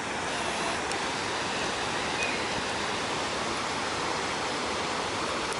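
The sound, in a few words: medium-sized waterfall in Stockport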